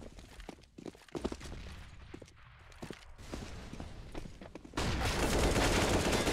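Gunfire rattles through a Counter-Strike esports match, with repeated sharp pistol shots under ongoing game noise and a sudden louder wash of sound near the end.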